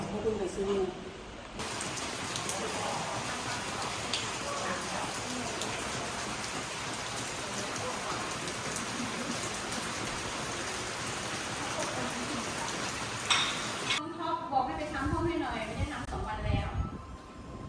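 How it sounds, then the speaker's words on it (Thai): Steady rain pours down during a detox retreat trip, a dense, even hiss of drops on surfaces that lasts throughout, with a brief change in texture near the start and some scattered nearby knocks toward the end. "โอ้ยฝนตก"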